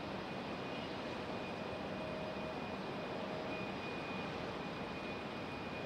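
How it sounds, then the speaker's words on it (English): A JetBlue airliner on the move at Raleigh-Durham International Airport in stormy weather, a steady distant engine roar and hiss held evenly throughout, no voices. "Our special JetBlue's on the move."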